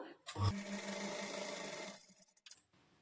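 A sewing machine runs a quick burst of stitching along a saree fall, a close steady whir lasting under two seconds before it stops with a few clicks.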